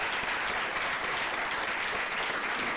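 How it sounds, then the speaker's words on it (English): Steady applause from an audience at a talk fills the whole stretch, dense and even without any pause, welcoming a guest onto the stage. "I want to welcome him with an applause"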